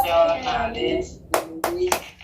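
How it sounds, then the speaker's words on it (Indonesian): In a classroom, a teacher's voice leads into three sharp, distinct hand claps in quick succession, part of the rhythmic 'tepuk PPK' clapping chant. "bagaimana kalau kita melaksanakan tepuk PPK dulu ya?"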